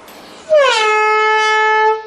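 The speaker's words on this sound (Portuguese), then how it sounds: "demos uma buzinada que eu vou até dar outra buzinada" A single sustained car horn blast sounds loud and close, a steady tone held for about a second and a half before cutting off, with no talk over it.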